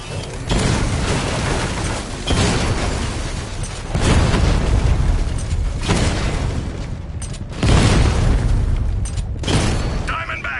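Heavy explosions strike the Diamondback in Batman: Arkham Knight, a series of loud booming blasts in waves, with a voice speaking over the din.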